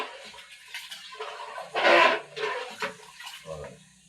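Water poured into a pot of vangi bath rice with added vegetables, a short splashing pour building to a louder burst midway, then trailing off into smaller splashes.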